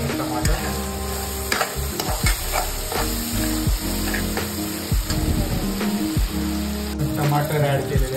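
Tomatoes frying in a hot pan for a potato and spinach sabji, giving a loud, steady sizzle with intermittent scraping stirs, close by, while a person talks over it.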